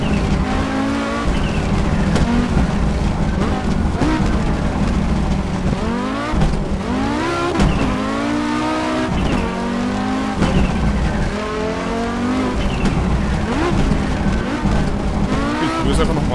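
An Audi Quattro S1 E2 rally car races in the Assetto Corsa video game on a Montenegro stage, its engine loud and constant, rising and falling through gear shifts with tire squeal and skidding, while someone talks over it.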